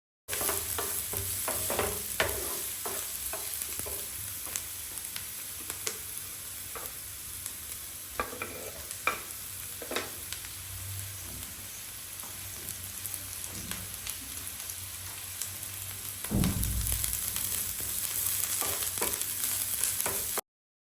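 Garlic, onion and green chillies sautéing over a high flame, a steady loud sizzle with repeated scraping stir clicks throughout and a brief louder surge near the end.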